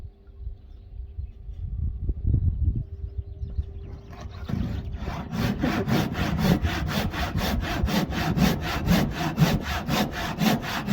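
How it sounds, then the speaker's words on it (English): Hand sawing through wood held with a welly boot as a clamp: after a few seconds of handling noise, a steady rhythmic rasp of back-and-forth strokes, close and loud. "So while I'm sawing, I'm using the welly boot as a clamp."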